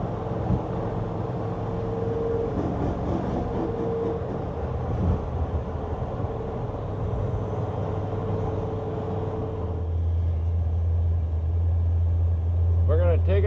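A 1956 Chevrolet 210 two-door post car drives and accelerates, its engine and road rumble steady and continuous, with a deeper low drone setting in near the end.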